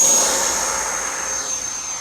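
A Freewing RC jet's electric ducted-fan engine throttles up on a runway landing approach, giving a loud, steady high-pitched whine and rush of air that eases slightly in level.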